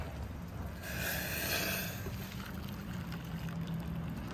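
Freshly boiled water poured from a pot in a van on a gloomy day, a steady splashing pour that swells and then trails off under a low background hum.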